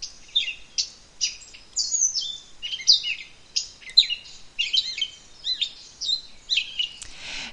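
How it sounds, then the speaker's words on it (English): A bird sings a lively, varied song of quick chirps and warbled phrases, repeating in bursts, clear and close with no other sounds. "listen to the state bird song"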